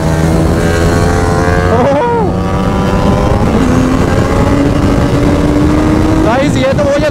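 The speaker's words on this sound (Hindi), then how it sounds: "रेस लगाना चाहते हैं निंजा 300 वर्सेस निंजा 1000" Kawasaki Ninja 300 and Ninja 1000 motorcycles drag racing, loud engines revving hard with rising and falling pitch sweeps as gears shift, continuous close roar throughout with voices mixed underneath.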